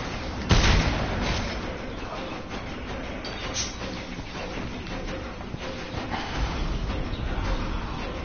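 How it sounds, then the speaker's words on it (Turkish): Shotgun blasts in the Mad Max video game, a sharp loud report near the start followed by dense, rumbling gunfire and engine-like noise that continues throughout. "Yani pompalı tüfekle vuruyorum, adama hiçbir şey olmuyor ya."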